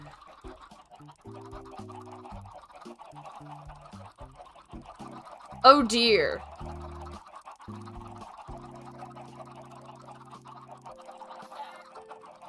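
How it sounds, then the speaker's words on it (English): Minecraft chickens clucking in short, sparse bursts under soft background music, with one brief louder squawk in the middle; a voice briefly speaks. "I will continue breeding the chickens whenever I remember"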